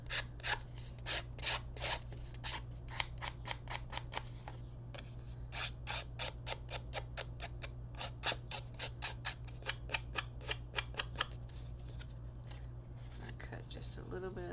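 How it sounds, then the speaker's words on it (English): Scissors blades scuffing and rasping along the torn edges of paper scraps in a rapid, repeated series of short close strokes over a steady low hum. "just going to take my scissors and scuff up the sides here"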